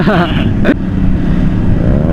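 A motorcycle engine revs up with a rising whine, then settles into a steady idle, heard close by.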